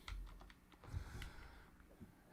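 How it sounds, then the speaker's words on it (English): Soft, quick keystrokes on a computer keyboard, a short uneven burst of close tapping with no talk. "I'm typing it up"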